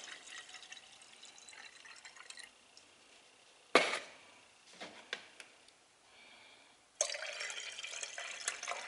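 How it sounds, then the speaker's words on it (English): Water pouring in short bursts into a glass jar, with a light clink against glass between pours, close and fairly quiet, no talking. "Now, I'm going to add the same amount of water in each one."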